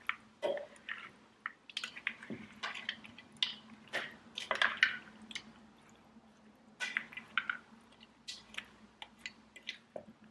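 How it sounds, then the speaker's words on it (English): Pasta noodles are tossed gently with dressing in a bowl, producing close, wet squishing and sticky clicking sounds in irregular bursts with short pauses. "And toss this gently to get all of the noodles coated."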